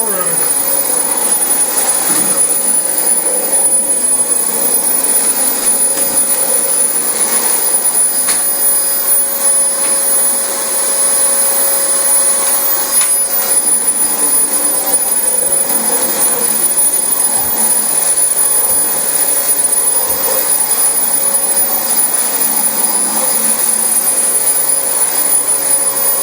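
A Dyson DC25 vacuum cleaner runs steadily and loudly over filthy carpet, its constant motor roar and high whine holding for the whole stretch with only slight shifts as it moves.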